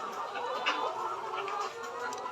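Laying hens on a poultry farm cluck in a soft, continuous chorus, many birds murmuring and clucking together at a moderate distance, with a low background hum.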